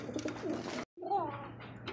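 Pigeons coo at a pigeon market, low throaty rolling calls that come close and clearly, broken by a short gap, with a voice faintly behind them.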